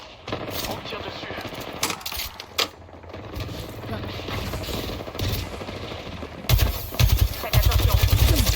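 Rapid automatic gunfire in the shooter game Apex Legends, loud and close, with bursts running through most of the stretch and heavier volleys near the end, mixed with game effects.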